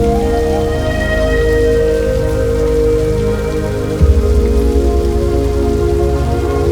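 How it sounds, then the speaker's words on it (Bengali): A sudden heavy downpour falls at Cox's Bazar beach, a loud, continuous wash of rain with a soft thump partway through. "কোনো পূর্বাভাস ছাড়াই মুসুলধারে বৃষ্টি নেমে এলো"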